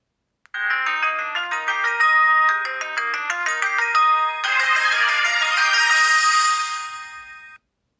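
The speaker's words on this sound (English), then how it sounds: "And I also like the AT&T ringtone." A cell phone's AT&T ringtone plays alone, loud and clear: a bright synthesized melody of quick stepped notes that swells into a shimmering sustained chord before cutting off after about seven seconds.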